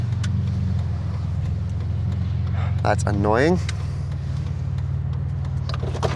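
An overheating car engine idles after pulling over, giving a steady low rumbling hum throughout, with a short spoken remark partway through and a few faint clicks.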